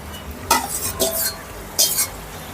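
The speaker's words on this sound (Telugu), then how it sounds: "ఇలా అంతా కలుపుకొని" A spoon scraping and clinking in a pan while chicken curry is stirred and mixed, with three distinct stirring strokes over a low sizzle, close by and without speech.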